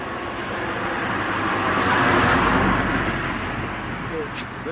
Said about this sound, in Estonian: teeme nii, et auto möödub